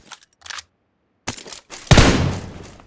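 Gunfire in the BGMI battle royale game, with a few short muffled shots early, then a loud burst near the end that rings and decays, with no voices.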